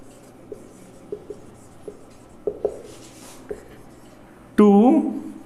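Chalk or marker tapping and scratching on a board during a Hindi-English physics lecture on surface tension, with a few short isolated strokes before a voice starts speaking near the end.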